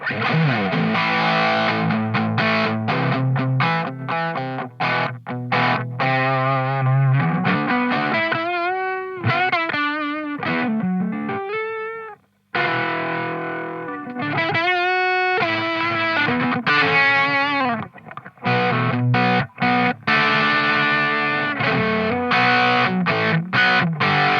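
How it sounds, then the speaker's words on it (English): Boss HM-2 and HM-3 distortion pedals driving an electric guitar with gain maxed, a loud, thick, saturated tone played continuously in fast riffs and sustained bends, with a brief drop near the middle before the playing resumes. "It's a good sounding distortion pedal."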